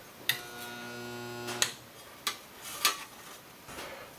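Spot welder clamping and welding sheet metal on a 1959 Jeep FC 150 restomod in a workshop, a low electrical hum for about a second followed by several sharp metallic clicks and snaps spaced apart, with no talk.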